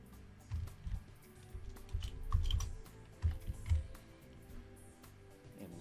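Short bursts of key clicks on a computer keyboard as a password is typed, soft and close, with irregular taps and brief pauses.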